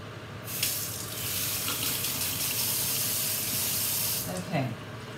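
Water from a tap rushing and spraying over a durian fruit to wash ants off, a loud, steady hiss that starts suddenly and cuts off near the end, heard close.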